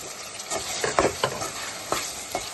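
Tomato pieces and onions frying in oil in a pan for a Telugu egg and ridge gourd curry, a steady close sizzle with a few louder stirring scrapes and no talk.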